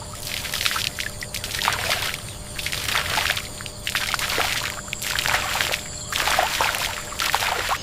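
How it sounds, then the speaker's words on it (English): Water glugs into a container filling at an outdoor spring, a steady rhythmic pulse of gurgles and splashes repeating roughly every second, close and prominent over a soft background wash. "Loud, clear glug glug as container fills with water."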